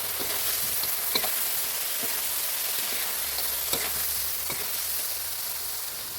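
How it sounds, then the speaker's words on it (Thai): Fried tilapia tossed with lemongrass in a hot pan gives a steady, loud sizzle and crackle, with scattered clicks of a utensil scraping and stirring throughout, and no voices. "ผัดให้เข้ากันเลยครับ"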